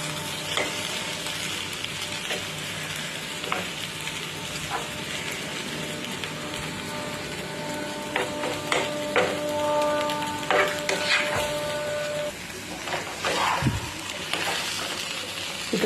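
Eggs fry with masala in a pan, a continuous close sizzle punctuated by repeated stirring scrapes and taps, busier toward the second half.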